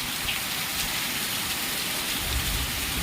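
Heavy rain pouring down at night during a storm, a loud, dense and unbroken hiss of water that fills the whole stretch.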